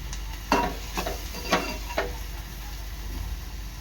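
Masala frying in oil in a pan for Koli-style dried karadi fish, with a steady low sizzle broken by a few distinct stirring scrapes and taps near the start and middle, close and fairly quiet.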